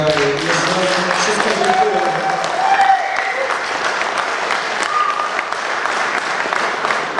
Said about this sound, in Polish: Duże brawo